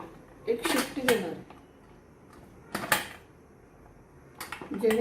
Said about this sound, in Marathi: आता मी याला कुकरला झाकण लावून